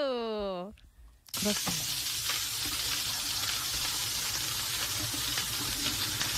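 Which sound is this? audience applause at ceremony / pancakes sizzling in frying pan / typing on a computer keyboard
pancakes sizzling in frying pan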